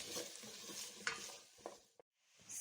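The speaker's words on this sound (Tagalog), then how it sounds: "So halo-haloin lang natin." Carrots and potatoes being stirred in a pan, a soft continuous sizzle broken by a few scraping clicks of the spoon, then a brief near-silent gap before the frying noise resumes.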